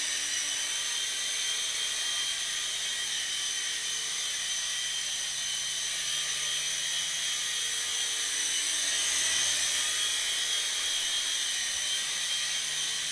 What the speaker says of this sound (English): It's a nice little heli.